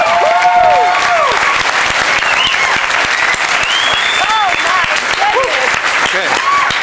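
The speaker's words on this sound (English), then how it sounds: "Okay, give him a round of applause." Loud, dense audience applause at a Las Vegas stage show, a continuous roar of many hands with whoops and cheering voices rising over it throughout.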